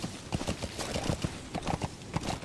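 Horse hooves clip-clopping as a rider sets off on horseback in Metal Gear Solid 5: The Phantom Pain, a quick, steady rhythm of close, moderately loud hoofbeats on the ground, with no talking.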